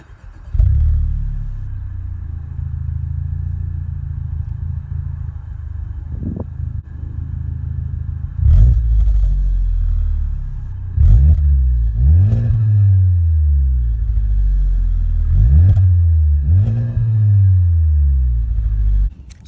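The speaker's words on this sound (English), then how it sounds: "the exhaust, which I don't think sounds like anything at all" A 2018 Honda Civic Type R engine idles with a low rumble, then the exhaust revs sharply several times in quick bursts, loud and close.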